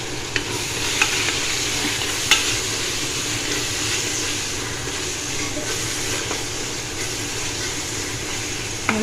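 Masala with green chilies and coriander powder fries in oil for fish biryani, a constant close sizzle with occasional light clicks of a spoon stirring.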